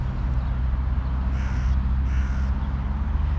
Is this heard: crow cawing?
yes